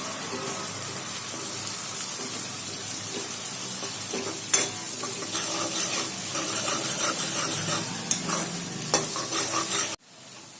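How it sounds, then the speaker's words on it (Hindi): Finely chopped onion with garlic fries in a pan until golden, a steady close sizzle with a few sharp clinks of a spoon against the pan before it cuts off abruptly near the end. "प्याज को हम अच्छे से गोल्डन होने देंगे"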